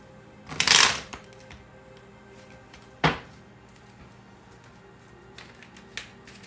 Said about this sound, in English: One more shuffle just to get them all shuffled good here.